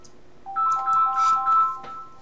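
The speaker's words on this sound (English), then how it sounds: "Oh, there's a phone call." An incoming phone call rings out as a clear melodic ringtone, a short bright sequence of rising electronic tones playing close and alone over a quiet background.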